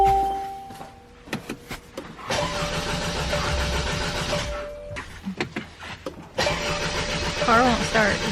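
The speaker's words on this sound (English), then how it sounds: "Car won't start. It's too cold." A car engine cranks repeatedly in freezing winter-storm cold without catching, several separate bursts of starter churning broken by short pauses, close and fairly loud.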